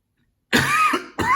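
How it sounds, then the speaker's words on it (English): After a moment of silence, a person coughs sharply twice, close and loud, the second cough following quickly after the first. "There's the coughing."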